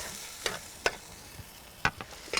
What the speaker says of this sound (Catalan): I ara ho deixem sofregir un parell de minuts, que vagi traguent la grasseta del camallot i de la xua.